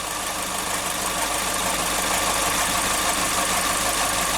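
A car engine with a knocking noise traced to the canister solenoid valve, heard as a steady close running drone with a faint repetitive tapping beneath, no talk.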